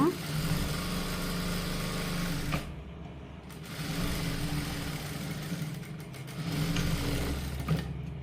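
A sewing machine runs in steady bursts as it joins the crotch seam of salwar pants with a half-inch allowance. The hum is close and fairly loud, with two short pauses partway through.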